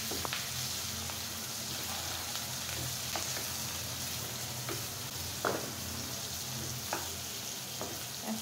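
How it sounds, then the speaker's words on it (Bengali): Chopped onion and garlic fry steadily in a pan, giving a dense, even sizzle throughout, with occasional soft pops and faint clicks of stirring close by. "এখন পেঁয়াজটা আধা কুচি করে ভাজা হয়ে গেছে"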